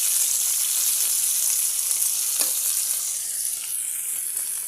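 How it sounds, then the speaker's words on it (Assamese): Onions frying in pork fat in a wok, giving a steady, dense, close sizzle with a faint stir partway through and no talking. "এয়া পিঁয়াজখিনি ইয়াতে ভাজি ল'ম মই।"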